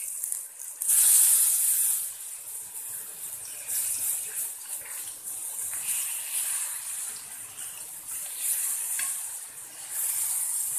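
Slices of elephant yam fry in a pan with a steady, hissing sizzle and a louder crackling burst near the start, close by and fairly quiet, no voices.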